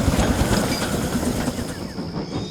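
A passenger train rolls along the rails with a steady rumbling roar and rhythmic clatter of wheels, close and loud throughout.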